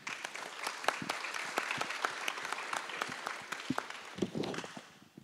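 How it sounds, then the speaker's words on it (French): Dense, steady applause from a conference audience in a lecture hall, many sharp individual claps layered close together for about five seconds before thinning out at the end. "Je pense qu'on peut les applaudir."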